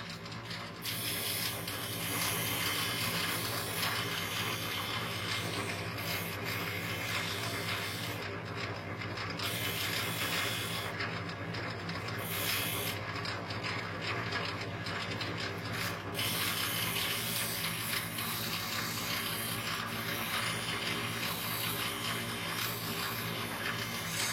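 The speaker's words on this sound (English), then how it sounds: "Okay, so we're on a flexi wheel now." A flexible abrasive wheel grinds a workpiece with a steady rasping, rubbing hiss that lasts throughout, broken by a few short dips where the wheel briefly lifts away.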